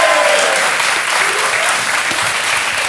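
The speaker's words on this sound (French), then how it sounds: "Nos premiers invités, c'est Passy et Stomy Bugsy qu'on peut applaudir" Studio audience on a French TV talk show applauding guests Passi and Stomy Bugsy, a loud, dense burst of clapping that stays full and steady from start to finish.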